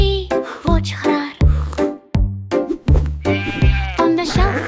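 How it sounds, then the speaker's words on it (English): Sheep bleating rises loud and wavering over a bouncy children's tune with a steady beat, several drawn-out bleats spread across the passage. "By the door there is a sheep."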